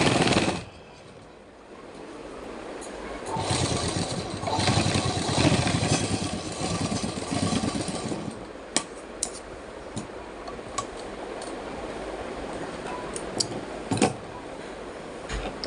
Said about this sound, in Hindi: तो ऐसे ही हम इधर भी एक दाब सिलाई मार देंगे